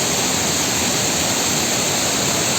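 Rushing water at Bamni Falls in Purulia, West Bengal, a steady dense roar of falling water heard close up with no break and no voices.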